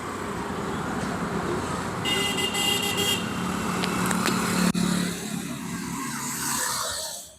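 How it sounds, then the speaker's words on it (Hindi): Motorbikes and cars stream past on a busy road, with steady engine and tire noise. Several short horn toots sound midway, and a sharp knock comes just before the traffic noise fades. "काफ़ी ट्रैफिक है, बाइक कार्स वगैरह जा रही हैं"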